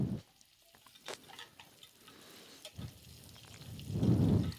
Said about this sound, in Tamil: வெங்காயத்தை நல்ல எண்ணெயில் கொஞ்சம் நேரம் வதக்கிக்கலாம்.